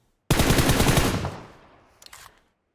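A long, loud burst of rapid automatic gunfire from a mobile shooter game plays alone and close, then fades into a tail, followed by a few faint scattered shots.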